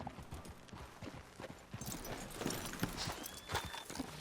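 Horse hooves clip-clop at a walking pace in the Red Dead Redemption 2 video game, a fairly close, irregular run of hoof strikes with game ambience behind them.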